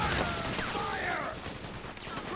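A fusillade of gunfire from a firefight in Metal Gear Solid 4, dense overlapping shots crackling in close succession, with shouted voices and battlefield clutter mixed in.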